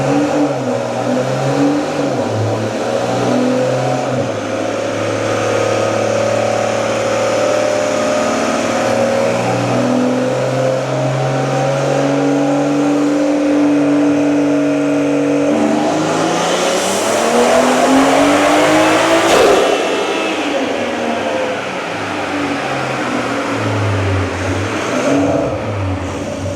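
A big turbo Toyota Supra engine revs hard on a dyno, a loud sustained roar that climbs through rising pitch sweeps and peaks in a screaming surge near the end, with no voices.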